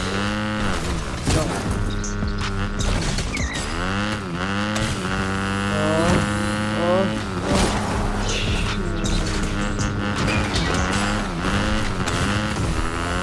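A motorbike engine in a video game, revving and whining loudly with rising and falling pitch sweeps as the bike accelerates and shifts, continuous and up close.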